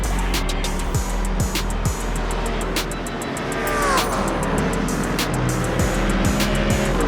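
Racing cars, a Porsche and a Mustang, in a sim racing video game, with high whining engines revving and shifting, one car sweeping past with a falling pitch, continuous and fairly loud with no talk.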